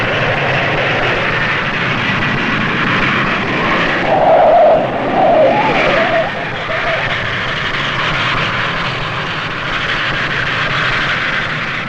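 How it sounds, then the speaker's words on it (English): A Boeing 707 lands on three engines in a strong crosswind at Bedford, a steady jet roar that swells briefly and then settles back to a constant broad rush. "This Boeing 707 is landing on 3 engines in a strong crosswind"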